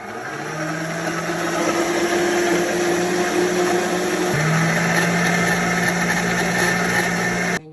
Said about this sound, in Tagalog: ito naman yung para sa soup, i-blender daw niya.